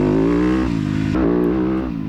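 Four-stroke dirt bike engine racing, a loud, close, buzzing drone that holds high revs and dips briefly before climbing again, with no talk.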